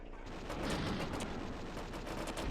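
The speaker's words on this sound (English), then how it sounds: "we'll just unload these fire missiles on them" Fire missiles launched in rapid succession from a combat vehicle in Twisted Metal III, a fast, steady burst of sharp firing blasts over dense game noise.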